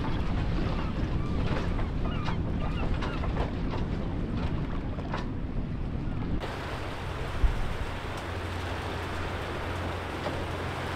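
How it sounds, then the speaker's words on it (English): A sailboat crossing the North Sea in strong wind, its hull slapping on small waves. Steady roaring wind and water noise fills the whole stretch, with one brief thump partway through and no speech. "you do get a few little waves that come through and we do bang like this"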